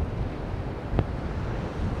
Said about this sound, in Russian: Такие вот раскаты катятся в нашу сторону.